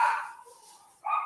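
Dogs bark in the background, two loud bursts of barking at the start and end with a short faint whine in between.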